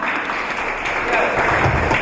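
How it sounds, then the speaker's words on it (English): Audience applause at a talk on toxic masculinity and violence against women, a steady dense wash of clapping that swells slightly toward the end, with some voices mixed in. "Clap the man, one."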